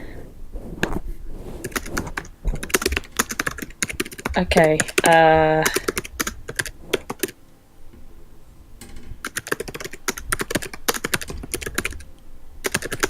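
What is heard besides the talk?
typing on a computer keyboard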